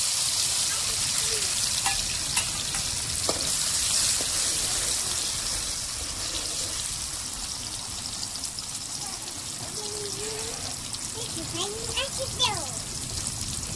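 Tomatoes added to hot oil in a pan while cooking a fish dish fry with a loud, steady sizzle and occasional scraping and clinks, as a voice talks faintly in the background.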